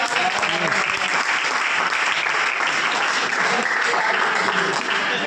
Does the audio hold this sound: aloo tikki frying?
no